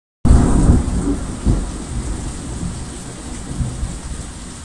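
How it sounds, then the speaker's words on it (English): Heavy rain pours steadily through a thunderstorm, with deep rolling rumbles of thunder swelling loud at the start and recurring over the constant downpour. "every, like, couple minutes or so, like, there'll be a huge, massive thunderstorm."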